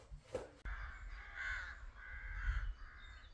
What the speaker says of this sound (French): Eh bien pas du tout, ce sont des corbeaux. Il y a des nids partout ici.